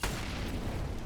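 A grenade explosion in a professional Counter-Strike match on Dust 2: one sudden, loud broadband blast at the start, trailing into a dense, noisy rumble for about a second.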